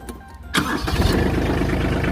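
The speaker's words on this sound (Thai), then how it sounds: "เดี๋ยวเราลองมาสตาร์ทเครื่องยนต์ดูนะครับ" A used Kubota tractor's engine cranks briefly, then catches and settles into a loud, steady diesel idle with a rapid rhythmic chug, close up.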